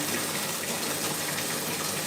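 Water gushes steadily from a bathtub tap into a large tub, a close, constant hissing rush with no voices.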